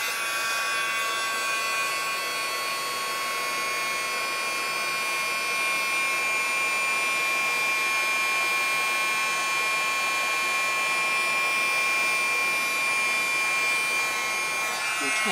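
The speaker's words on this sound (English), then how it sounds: "So now I'll heat set it with my embossing tool." An embossing heat tool heat-sets embossing powder, blowing a steady, loud, high-pitched electric whine and rush of air that runs unbroken throughout at close range.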